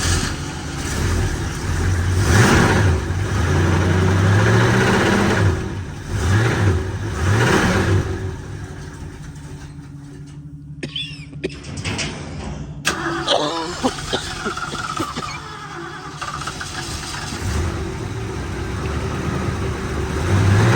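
Engine of a 1965 Ford Mustang coupe after a valvetrain adjustment, cranking and catching, then revving in rising and falling swells before settling into a rough, lumpy idle, close and loud with brief talk.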